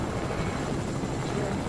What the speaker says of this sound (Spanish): Hay un helicóptero, voy a parar.